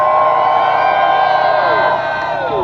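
A crowd cheers and whoops loudly at an outdoor political speech in front of Independence Hall in Philadelphia, a sustained roar of many voices that tapers off slightly toward the end.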